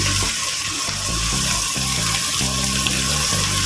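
Tap water pours steadily into a pot while squash and string beans are being cooked, a continuous close hiss with a faint sizzle beneath it.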